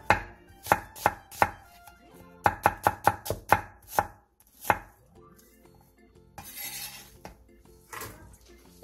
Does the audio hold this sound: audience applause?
no